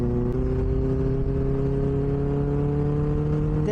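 Benelli 600i motorcycle exhaust while riding, a steady droning engine note with stacked harmonic tones climbing slightly in pitch as speed builds, close and loud with wind rush.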